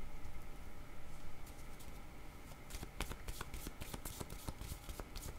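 Cards shuffled for a tarot-style reading, a run of quick crisp riffling snaps and flutters coming close and clear after a quieter, muffled start.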